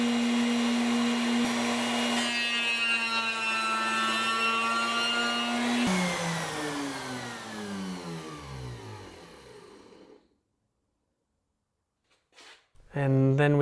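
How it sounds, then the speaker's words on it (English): A wood lathe shaping a snare drum shell: a loud, steady motor whine that winds down with falling pitch, then near silence and a brief burst of noise at the end. "And then we go back on the lathe for a final shaping by hand"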